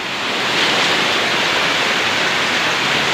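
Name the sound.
heavy rain falling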